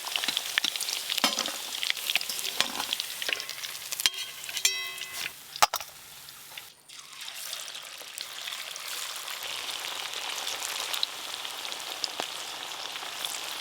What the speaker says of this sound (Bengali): চিকেনগুলো বেশ ভালো করে ভাজা হয়ে গেল।